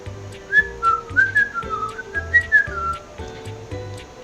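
A person whistles a wandering, improvised melody alone over a soft, steady musical background, the notes sliding up and down in short phrases.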